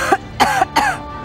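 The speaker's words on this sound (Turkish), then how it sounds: "İyice öksür. Düzgün öksür." A person coughs three short, sharp times in close succession, loud and near, in a quiet room.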